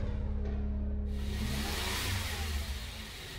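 A Subaru Outback's 2.5-liter four-cylinder boxer engine revs and accelerates. A steady low engine drone builds into a broad, rushing swell that stays loud throughout, with no talking.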